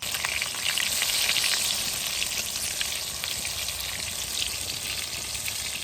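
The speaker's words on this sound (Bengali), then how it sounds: "বেগুন সুন্দর করে ভেজে নিয়েছি" Slices of brinjal frying in hot oil in a village kitchen make a loud, dense, continuous sizzle with crackling spatters, close up and without talk.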